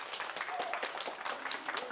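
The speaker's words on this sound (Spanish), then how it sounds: "Un aplauso para Juan Diego." Scattered hand clapping from a modest group at a children's day party on a ranch, continuous and fairly close, with faint voices mixed in.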